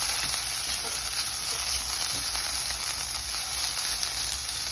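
Ten olives cook in a skillet, throwing off a dense, bright, constant sizzle with a hissy edge, heard up close and unbroken, with no talk over it.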